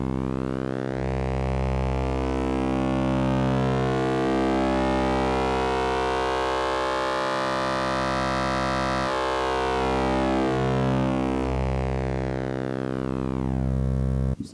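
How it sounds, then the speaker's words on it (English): Synthesizer oscillator with phase modulation distortion being gradually turned up, a loud sustained buzzing harmonic tone growing harsher and more distorted with sweeping, siren-like shifts, alone with no talk. "I'm not exactly sure what phase modulation is. It just seems like extremely heavy distortion."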